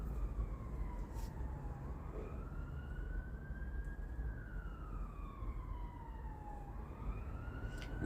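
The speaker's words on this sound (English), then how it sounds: "it's a fire engine don't mean it's a fire round here" A fire engine siren wails in the distance, its pitch sweeping slowly up and down over steady background noise, with no talk over it.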